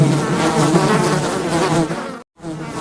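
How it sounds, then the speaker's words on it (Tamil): A swarm of locusts buzzing, a thick, loud continuous drone of many wings that breaks off briefly near the end and resumes. "வெட்டுக்கிளி"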